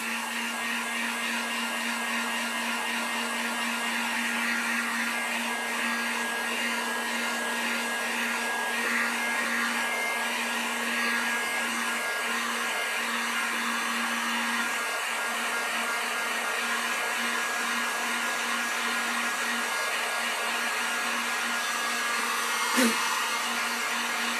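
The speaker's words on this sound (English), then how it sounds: "Let's heat gun this one more time for you guys." A heat gun blows hot air steadily over acrylic paint on a spring sign, a continuous close whooshing drone with a faint whine that holds evenly for the whole stretch, with one small click near the end.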